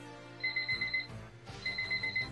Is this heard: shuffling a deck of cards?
no